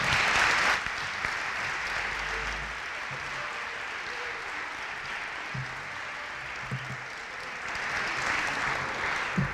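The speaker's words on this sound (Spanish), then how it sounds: "Un aplauso para Fran, por favor." Audience applause at a music school event presenting a new direction, a sustained, even wash of clapping from a seated crowd that swells at the start and again near the end, with no talk over it.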